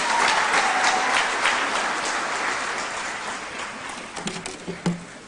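Audience applause for Honorable Filda Kereng, Botswana's Minister for Environment and Tourism, at a UN Habitat Assembly roundtable in Nairobi; steady clapping that thins out and fades, leaving a few scattered claps near the end.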